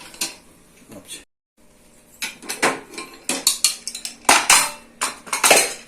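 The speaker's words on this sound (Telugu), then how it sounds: "ఓకే ఒక టూ మినిట్స్ వరకు మూత పెడతాం" A metal lid clatters onto a cooking pot of ram gizzard curry, a cluster of sharp clanks and scrapes after a brief silence, fairly close and loud with no talking.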